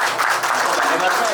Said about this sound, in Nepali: ताली बजाउँ हामी